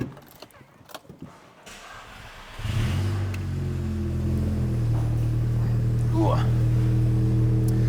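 A Mk6 Volkswagen Golf GTI Edition 35 with an upgraded exhaust cold-starts partway through, jumping from quiet handling noise to a loud, steady deep idle drone that holds close by, with a brief blip near the end; voices talk faintly beforehand.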